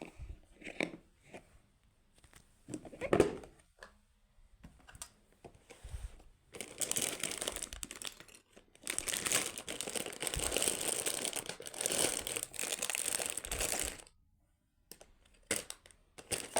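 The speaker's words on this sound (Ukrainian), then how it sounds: "Сама коробка є лего кубиком, і я її спробую відкрити." A Lego brick-shaped cardboard box is handled and pried open, with scattered scrapes and taps followed by long stretches of dense rustling and tearing of cardboard, close to the microphone.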